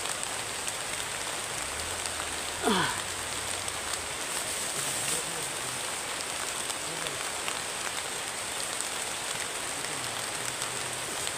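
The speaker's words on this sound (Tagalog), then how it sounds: "umuulan" Steady rain hissing on a surface, a constant broadband wash with a brief rising whistle-like sound partway through.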